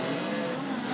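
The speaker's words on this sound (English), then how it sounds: "That little engine working overtime" A speedcar race car engine at Hobart Speedway holds a steady high drone for a brief moment, loud and continuous like a car running flat out on the track.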